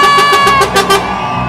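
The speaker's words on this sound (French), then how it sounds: "Même le chauffeur de camion il ne fait que de klaxonner." A truck horn honks repeatedly in short rhythmic blasts at a Pride parade in France, loud and close over a festive crowd's din.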